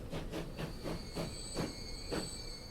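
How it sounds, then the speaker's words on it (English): A freight train runs through a station in the video game Transport Fever 2, its wheels giving a steady, faint clickety-clack rhythm over a constant rumble, with a thin high squeal above, no voices. "a nice little freight train in this centre track"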